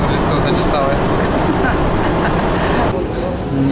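A metro train in the Saint Petersburg underground near Nevsky Prospekt gives off a steady, loud, dense rumble that fills the whole moment, with faint voices mixed into the noise.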